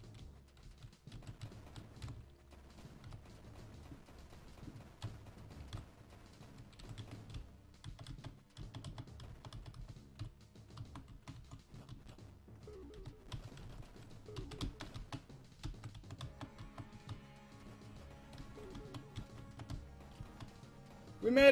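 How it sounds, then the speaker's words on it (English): Computer keyboard arrow keys clatter in irregular bursts of taps during video game play, close and fairly quiet, continuing for about twenty seconds with occasional soft game sounds beneath. "I'm gonna do this with arrow keys."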